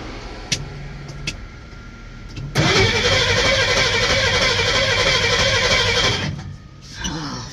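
Key-turned ignition on a 1979 Ford F150 Ranger truck: a few faint clicks, then a loud, close cranking roar that runs about three and a half seconds before cutting off, followed by a brief, weaker burst.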